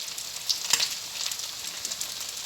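Potato cutlets shallow-frying in a pan, a steady bright sizzle throughout with small pops and crackles, close and moderately loud, no talking.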